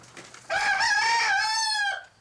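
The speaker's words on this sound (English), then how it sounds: "they picked up the roosters in the coop" A rooster in a chicken coop lets out a single loud, close crow lasting over a second, rising then holding before trailing off, with faint clucking just before it and no talking.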